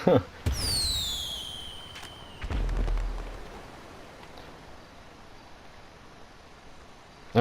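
New Year's fireworks in Grand Theft Auto V: a whistling rocket streaks upward and bursts with a bang, followed by a second muffled explosion, then quiet crackling background noise until a final pop.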